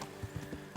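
Horse hooves clip-clop in a few soft, quick thuds, faint and close, with a light whinny-like tone underneath, in the medieval video game Kingdom Come: Deliverance.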